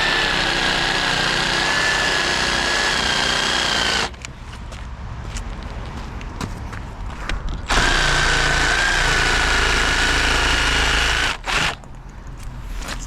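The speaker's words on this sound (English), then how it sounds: "I'll just demonstrate using a jigsaw freehand." Jigsaw cutting freehand through a timber roof rafter to form a birdsmouth joint, a loud continuous high-pitched whine that drops in load partway through, then resumes strongly with a brief pause near the end; no talking.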